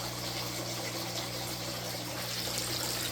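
Water streams steadily from the portholes of a DIY koi pond filter, making a continuous close gushing and splashing wash with a low pump hum beneath and no voices.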